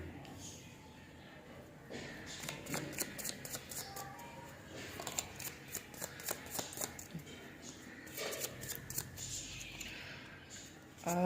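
Tarot cards being drawn and shuffled from a deck, with soft papery flicks and slaps in irregular bursts over a quiet room tone.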